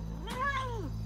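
A single cat meow, drawn-out and rising then falling, heard close up over a low steady hum in a TV drama scene, with no talking.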